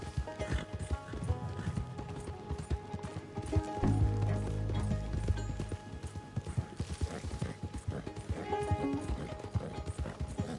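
Clip-clop of horse hooves in a video game, a steady rhythmic trot approaching and continuing close by, with a brief whinny-like tone and faint background game sounds.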